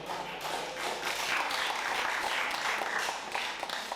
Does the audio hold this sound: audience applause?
yes